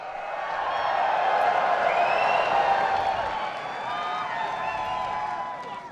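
An esports arena crowd at a Counter-Strike quarter-final in Sydney cheers and claps in a broad, steady roar that swells and then eases slightly, heard alone at moderate volume.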